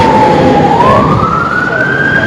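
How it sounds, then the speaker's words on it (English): An emergency vehicle siren wails loudly and close by as it passes, its steady tone sliding upward in pitch, with no speech over it. "I had to do a review when there's a siren going past."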